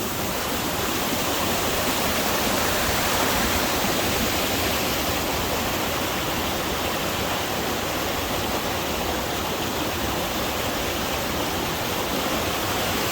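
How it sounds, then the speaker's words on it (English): A powerful waterfall at Llyn Idwal in Snowdonia pours down a rock face, making a loud, steady, broadband roar that stays constant throughout with no voices. "That's a fierce waterfall."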